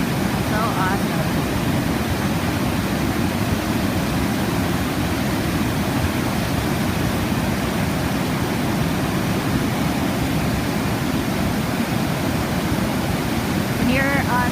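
A waterfall roaring in a steady, dense rush of water that stays constant and loud from start to finish with no pauses.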